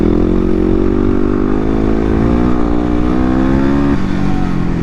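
A 2016 Yamaha WR250R dual-sport motorcycle engine drones loudly and steadily at close range, its tone holding firm with a slight shift in pitch near the end and no voices over it.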